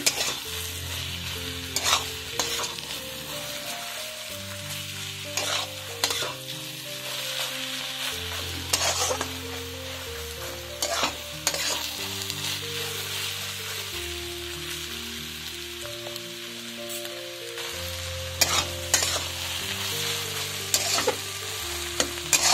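Egg and carrot stir-fry in a pan, a steady sizzle marked by repeated scraping and clattering stirs, while music plays in the background.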